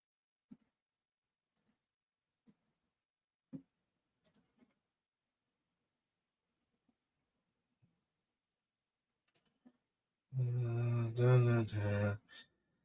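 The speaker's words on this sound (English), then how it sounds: "Don't mind the clicking." Sparse, sharp clicks sound one at a time at irregular intervals, close and quiet. A short burst of speech follows near the end.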